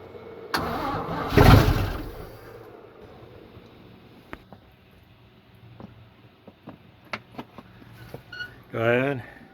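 A 1959 GMC 150 long bed fleetside pickup engine cranks and catches with a loud, rough burst, then falls to quieter uneven idling punctuated by sharp clicks and knocks, ending with another short surge; a voice speaks briefly.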